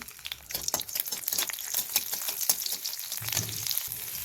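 Garlic frying in hot oil in a wok, a close, busy sizzle and crackle with stirring scrapes throughout and a lower bubbling swell near the end.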